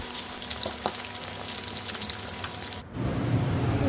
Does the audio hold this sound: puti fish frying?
yes